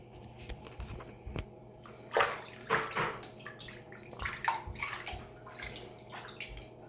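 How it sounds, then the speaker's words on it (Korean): Hair is washed in a basin of collected water, with close, soft splashes, sloshing and drips coming in irregular bursts over a quiet background. "머리를 감아 보도록 하겠습니다."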